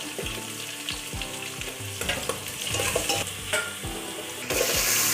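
Green chillies and turmeric fry in a pan for a Nellore fish curry, a steady close sizzle with crackling pops and a spoon scraping and stirring, growing louder near the end.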